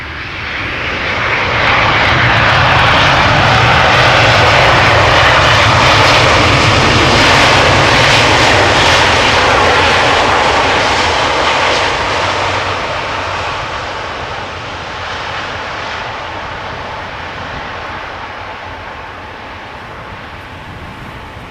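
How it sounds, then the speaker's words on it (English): A big airliner lands at Amsterdam Schiphol and deploys its thrust reversers. A loud, broad roar swells over several seconds, holds steady, then slowly fades as the reversers spool down. No one talks over it. "Nice use of the reversers there."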